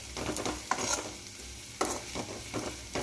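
Kashmiri chili powder sizzles in hot oil in a pan for macaroni pasta, while a spoon stirs steadily through a continuous close frying hiss with a few sharper scraping strokes.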